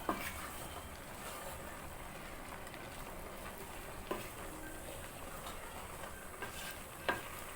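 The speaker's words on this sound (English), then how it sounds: "Now we're going to stir it all in." Spaghetti sauce with chopped chicken being stirred in a pan, a soft steady sizzle with scraping spoon strokes and a few sharp clacks against the pan, fairly quiet and close.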